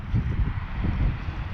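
Wind buffets the microphone outdoors during a DJI Mavic 2 Zoom drone test flight, a steady low rumbling roar with gusty swells and no voices.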